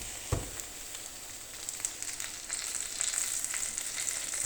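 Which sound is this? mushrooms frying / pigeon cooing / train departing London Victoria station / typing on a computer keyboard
mushrooms frying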